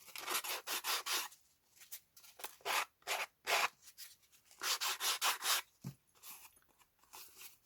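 Hand sanding, close up: rhythmic bursts of gritty rubbing strokes, some in quick runs, with short pauses between them.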